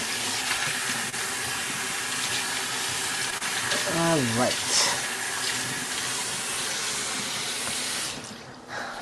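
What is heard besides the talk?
tap water running into sink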